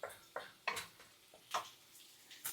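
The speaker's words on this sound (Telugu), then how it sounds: "ఇక్కడేమో ఇవి ఫ్రై అవుతున్నాయి" Something frying and being stirred in a deep vessel of curry, with intermittent sizzling bursts and scraping stirs at close range, no talk.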